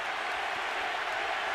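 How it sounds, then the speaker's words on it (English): Boxing arena crowd during a Manny Pacquiao versus Antonio Margarito fight, a loud, continuous wash of crowd noise and voices with no individual words standing out. "And the crowd picks up the chant."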